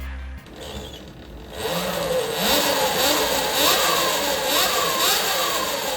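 An electric dirt bike motor revs up and down in several rising and falling whines, close by, after a brief quieter start.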